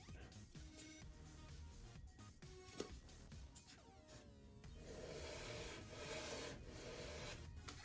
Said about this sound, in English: So now I'm just going to sand this little flat section until it fits perfectly.